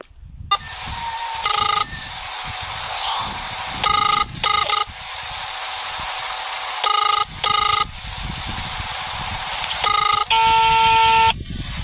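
A telephone keypad dialing a number: several short bursts of paired beeping tones in an uneven rhythm, heard close over a steady background hiss, ending with a longer held tone.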